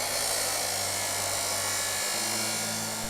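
Power grinding on metal during sculpture fabrication, a steady loud whining hum that runs unbroken and close throughout.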